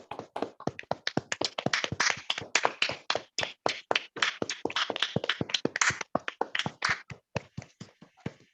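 Participants in an online Toastmasters meeting clap for a speech, a steady patter of small handclaps with sharp individual claps picked out clearly, close and fairly quiet, lasting several seconds without any talking.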